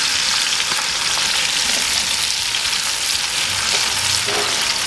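Steaks sear in a skillet with garlic and rosemary sprigs, a loud continuous close sizzle and crackle with faint stirring, no voices.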